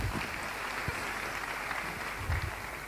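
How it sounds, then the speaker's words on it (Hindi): Crowd applause at an Achievers Day celebration honouring mentors and club founders, a steady wash of many hands clapping throughout, with a few low thumps standing out. "तालियां होनी चाहिए।"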